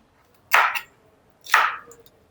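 Two crisp knife chops through fresh young okra on a cutting board, about a second apart, close and clear against near silence.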